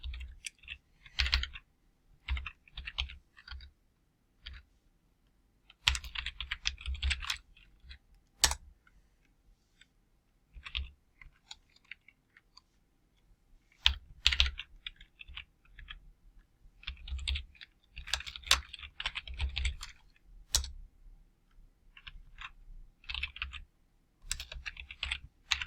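Someone types on a computer keyboard while writing Python code. Close, crisp keystrokes come in irregular bursts separated by short pauses, with no talking.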